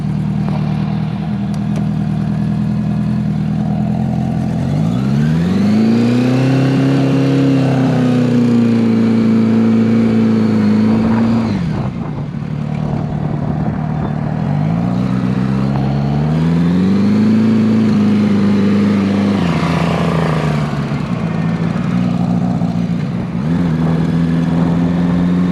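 A 1980 Honda Goldwing GL1100 motorcycle, recently fitted with rebuilt carburetors, is heard loud and close while riding, its engine rising and falling through several accelerations and gear changes over about twenty-five seconds, with no voices.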